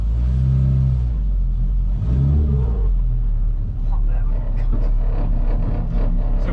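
A classic Mk1 Mini Cooper S engine revs loudly from inside the car while driving on the road, its pitch sweeping up and falling back in two surges over a rough, rumbling drone.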